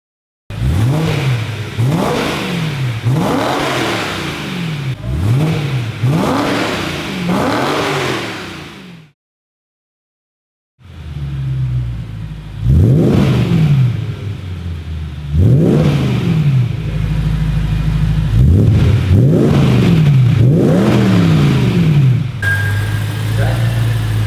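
A car engine revs repeatedly after an M3 exhaust install, sharp rising blips in a steady rhythm, loud and close, with a short silent gap midway and people talking faintly in between.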